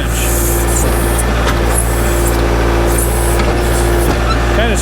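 Heavy excavator engine drones steadily throughout while the bucket drags flat along a rocky trench bottom, with gritty scraping and occasional knocks of stones, loud and close.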